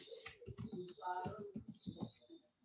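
Fingers tap at a computer keyboard while entering a formula into a Microsoft Excel spreadsheet, the light clicks faint and close under continuous talking.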